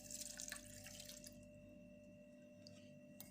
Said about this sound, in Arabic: وغادي نضيف الماء